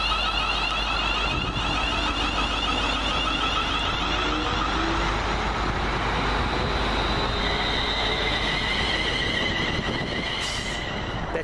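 A London Midland Class 350 electric multiple unit, number 350.236, departing Kings Langley station on a London Euston to Tring service, giving a steady loud rumble with high whining tones and a brief squeal near the end.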